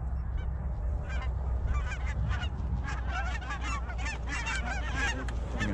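A flock of speckled white-fronted geese honks continuously during a goose hunt, with dense overlapping calls at close to middle distance over a steady background rumble, and no voices.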